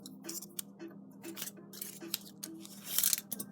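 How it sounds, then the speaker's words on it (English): Small scissors snip in a quick series of close, crisp cuts, with faint handling clatter between them. "small scissors"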